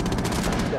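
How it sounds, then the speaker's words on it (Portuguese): Gunfire in the video game Rainbow Six Siege, a short, loud, dense burst of rapid shots filling the whole moment. "Eu tô ouvindo agora tiro."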